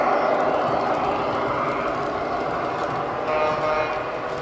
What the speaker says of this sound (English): As the train comes down,